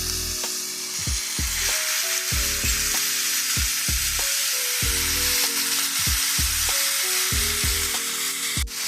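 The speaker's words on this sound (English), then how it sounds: "you can add in your ground beef" Ground beef sizzling in a pan with onion for goulash, a constant loud hiss with repeated scraping and tapping strokes of a utensil breaking up the meat, no talking.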